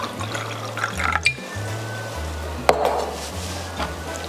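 Water pours into a saucepan for simple syrup, a soft splashing trickle close by with a low hum underneath, alone with no talking.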